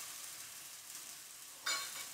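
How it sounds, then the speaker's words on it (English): Cooking wine hitting a hot skillet gives a steady, close hiss of sizzling that flares up sharply near the end, with no talking. "I love the smell when cooking wine gets added to a hot skillet"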